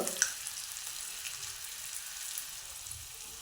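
Mustard seeds crackle and sizzle in hot oil being heated for a tempering, a steady close frying hiss with a few sharp pops near the start, no talking.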